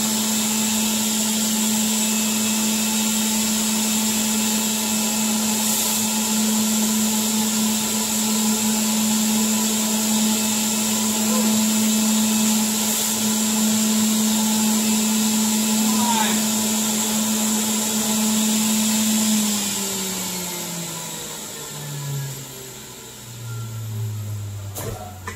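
An electric juicer grinding vegetables and cilantro, a steady loud motor whine that holds for a long stretch, then slows and drops in pitch as it winds down, with a person talking over it.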